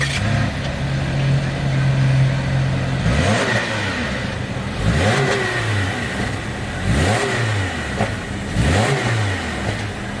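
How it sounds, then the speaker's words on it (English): A 2019 Subaru Impreza's 152 hp flat-four engine idles close by, then is blipped four times in a steady rhythm, each rev rising sharply and falling back to idle. "Let's go ahead and fire up this 152 horsepower flat 4 engine."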